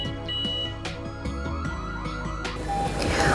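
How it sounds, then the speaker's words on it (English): A Vicutor G90B Wifi GSM alarm system's siren sounds nearby in a clear electronic sequence of rapid beeps and sweeping chirps, then finishes in a louder, noisier burst. "After the siren sound beep beep and the OLED display success"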